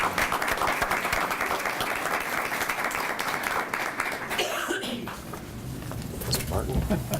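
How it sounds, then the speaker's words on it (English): At a school board meeting, a room full of people applauds the board, a dense, even clapping that carries for several seconds and then thins out and fades. "So a round of applause for our school board."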